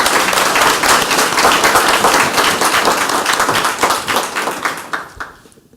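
Large audience at a forum clapping in a dense, loud burst of applause that holds steady and then tapers off toward the end.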